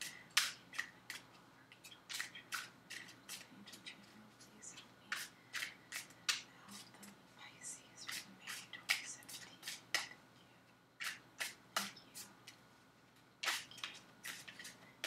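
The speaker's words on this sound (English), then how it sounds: "I'm going to start shuffling for Pisces, May 2017, please." Tarot cards are shuffled in quick, crisp riffles and snaps, repeated in bursts close by, with occasional soft talk underneath.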